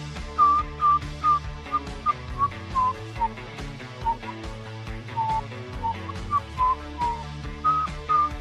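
A person whistles a wandering tune in clear, sustained notes with short pauses between phrases, over soft background music.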